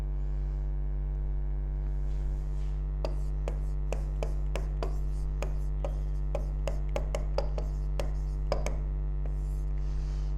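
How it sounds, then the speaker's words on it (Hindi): Chalk or marker writing out a final cell reaction on a board in an electrochemistry class gives a quick series of sharp taps and short scratches over a constant low electrical hum. "फाइनल सेल रिएक्शन लिख रहा हूँ मैं"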